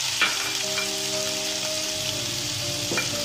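Onion frying with ginger, garlic and tomato for paneer butter masala makes a steady close sizzle and crackle, with a couple of soft utensil taps.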